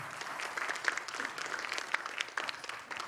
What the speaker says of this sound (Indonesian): Kayak ngerti aja lu tepuk tangan